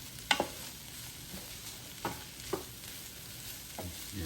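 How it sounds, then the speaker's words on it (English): A utensil stirs turkey fried rice in a Power XL cooker, making a few quiet, spaced scrapes against the pot over a low hum. "Stir up all that so it get nice and good."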